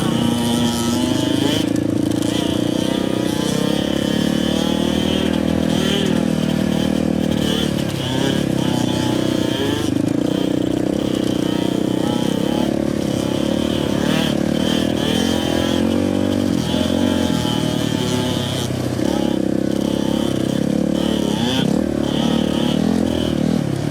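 A dirt bike engine drones and revs continuously on a rough trail, loud and close, with clattering from the terrain while people talk over it.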